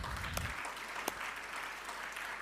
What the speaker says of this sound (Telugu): అట్టి స్త్రీలందరి కొరకు ఒకసారి గట్టిగా చప్పట్లు కొట్టండి.